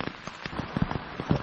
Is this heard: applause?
no